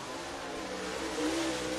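Race cars on the dirt track at Duck River Raceway Park in Lewisburg, Tennessee roar steadily at a distance, their engine drone rising slightly as they accelerate on a checkered flag lap.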